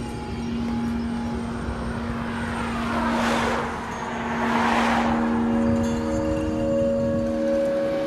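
A fixed-wing airplane's engines roar loudly in flight, swelling in two broad surges over a constant droning hum, with no speech.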